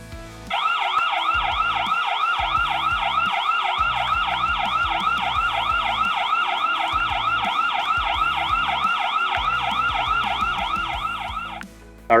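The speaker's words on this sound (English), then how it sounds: "you can manually engage the siren just by hitting that and then by pressing activate" Wireless security camera siren (ieGeeK S2) wailing loudly and steadily in rapid repeating up-down sweeps for about eleven seconds, then cutting off abruptly.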